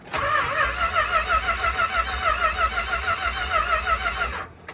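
A car engine fitted with a newly installed MSD 6AL ignition box and factory distributor cranks briefly and catches, then settles into a steady, loud rumbling idle close by for several seconds before cutting off.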